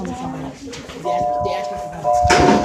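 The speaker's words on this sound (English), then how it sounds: "The bell!" A bell rings during a casual live broadcast: two clear sustained chimes, one about a second in and another near the end, over busy background chatter.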